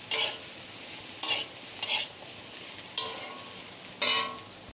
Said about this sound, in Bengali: হলুদ আর জিরেটা দিয়েও একটু ভাজা ভাজা করে নিয়েছি